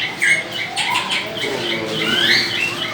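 Caged birds, including a bulbul and a cockatiel, chirp and tweet in a lively, overlapping chorus at the Sulaymaniyah bird market, with bright calls coming close and fairly loud against a busy background.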